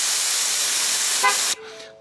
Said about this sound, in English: you're gonna let air out until it honks